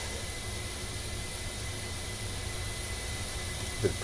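A jet engine in Kerbal Space Program, a steady airy hiss with a faint high whine held evenly throughout, no speech, and a small knock near the end.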